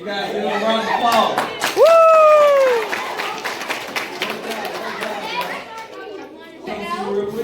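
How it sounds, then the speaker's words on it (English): Elementary school children at a school visit burst into applause and excited cheering, a loud wash of clapping with a few shrill kid voices rising through it before settling into scattered chatter. "you guys give them a round of applause"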